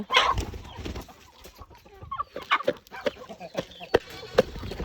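Chickens and roosters at a small poultry farm cluck and squawk in short, irregular bursts while being fed grain, with some calls close and loud and others softer in the background.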